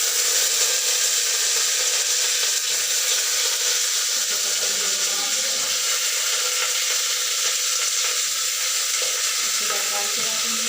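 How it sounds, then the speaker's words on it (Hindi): Vegetables tempering in hot oil in a home kitchen, giving a steady, close sizzle and crackle that holds through the whole stretch with faint stirring and no talk. "तो बस ये सब्ज़ी मुझे तड़का लगाना होता है।"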